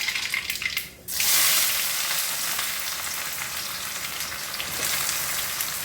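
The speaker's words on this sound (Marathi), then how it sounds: "आपण तेल टाकलेले आहे कढईमध्ये. आपण मोहरी आणि जिरं टाकतो." Mustard seeds and cumin hit hot oil in a kadhai. After a brief dull knock, a loud, close, continuous sizzle with fine crackling runs steadily to the end.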